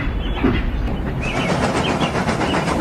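A steam train, the Flying Scotsman, runs along the line with a steady rolling rumble and faint rhythmic clatter, heard alone and fairly loud throughout.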